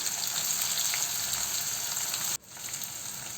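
Chopped onion and cumin seeds sizzling in desi ghee in a kadai, a dense, steady frying hiss close by that drops abruptly partway through, then resumes a little softer.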